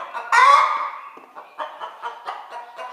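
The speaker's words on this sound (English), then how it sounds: "Hope she goes back to the nest when she's finished making her noise and doing her thing" A speckled hen gives a loud squawk, then a run of short, rhythmic clucks, close by and on its own.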